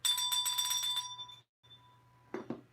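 Bell rung for a Tony Gwynn card hit pulled during a card break: a quick burst of repeated bright metallic dings fading out, followed by a soft thump, heard alone at low volume.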